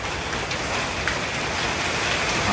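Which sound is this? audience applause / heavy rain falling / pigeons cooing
heavy rain falling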